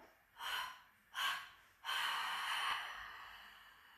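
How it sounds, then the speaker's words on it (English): Deep breaths during a hypopressive exercise: two short, sharp inhales followed by a longer, sustained breath, close and quiet, with no talking. "Inhale,"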